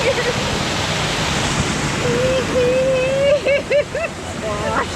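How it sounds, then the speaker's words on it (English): A small waterfall on a river rushes steadily as broadband splashing, heard up close on a barefoot hike, while a person talks over it in the second half. "There's a little waterfall."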